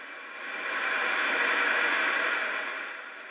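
A Moscow Metro train rushes into a station: a broad, hissing roar that swells over the first second, holds steady and loud, then eases slightly at the end, with no voices.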